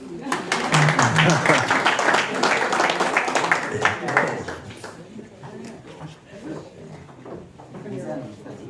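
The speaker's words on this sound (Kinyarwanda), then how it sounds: "Mukomera amashyi." An audience claps at a Bible school graduation ceremony. The dense applause lasts about five seconds and then thins out, with a voice speaking over it.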